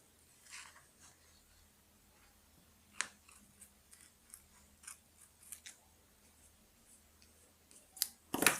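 Scissors snipping masking tape while making a paper card: scattered, quiet, crisp cuts close by, some single and some in quick pairs, ending with a louder burst of snipping.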